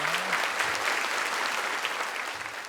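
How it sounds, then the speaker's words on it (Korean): Audience applauding at a provincial governors' policy conference in Korea, a steady dense wash of many hands clapping throughout, fading slightly toward the end. "박수 부탁드립니다."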